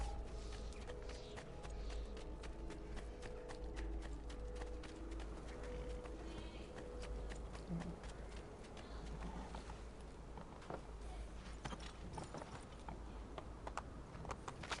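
Hooves clip-clop rapidly as a horse gallops in the Assassin's Creed 2 video game, a fast, even patter of hoofbeats under a faint game soundscape with no talk.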